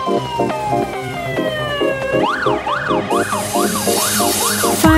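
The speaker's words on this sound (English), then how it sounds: "Can you hear the siren? It is the big red fire engine." A big red fire engine sounds its siren up close, a loud electronic wail that sweeps slowly and then switches to a rapid, repeating up-and-down yelp.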